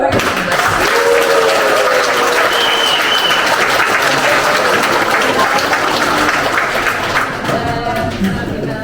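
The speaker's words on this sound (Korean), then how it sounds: "여러분의 열렬한 박수로 마치도록 하겠습니다" At the close of an inauguration ceremony for a new association president, a hall full of attendees breaks into loud, sustained applause, with scattered voices and brief tonal sounds mixed into the clapping.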